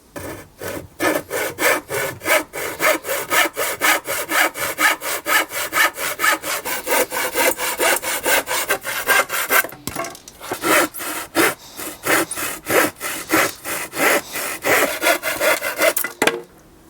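Wooden legs for a portable Forest School sawhorse are cut to size with a handsaw: steady, rhythmic back-and-forth rasping strokes, close and clear, with a brief pause midway and no talk.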